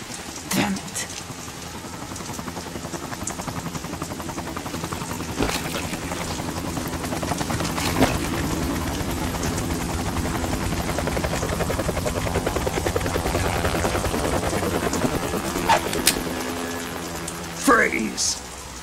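Helicopter in the video game Metal Gear Solid 2, a steady loud rotor drone throughout with voices talking over it and a few sharp impacts.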